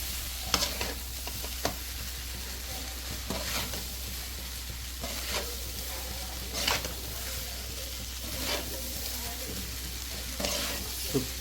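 Chicken fried rice seasoned with pepper and masala, sizzling and being tossed in a hot pan, with a continuous frying hiss broken by periodic scraping stir strokes close by.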